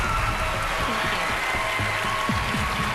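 Audience applause for a departing contestant on the televised singing competition Rising Star, a steady, dense wash of clapping filling the room for the whole stretch, with faint voices murmuring underneath.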